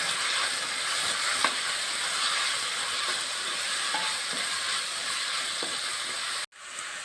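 Ground masala paste is stirred into a frying tomato mixture for a Kerala kozhuva peera, a steady sizzle and hiss filling the pan with faint scraping stirs throughout. The sizzle cuts off abruptly near the end, then resumes.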